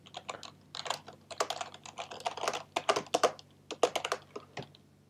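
Fast, close typing of programming code for a Minecraft Bukkit plugin on a computer keyboard, bursts of crisp keystrokes with short pauses between words.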